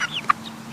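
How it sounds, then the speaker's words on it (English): A rooster gives a single short, close cluck amid quiet surroundings, with a faint higher chirp just before it. "this one is a rooster"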